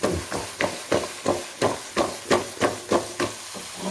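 A pan of carrot halwa in ghee is shaken and stirred, producing a steady series of about a dozen evenly spaced scraping, sloshing strokes, close and moderately loud.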